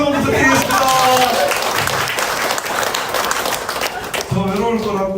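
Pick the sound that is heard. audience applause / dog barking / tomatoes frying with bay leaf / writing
audience applause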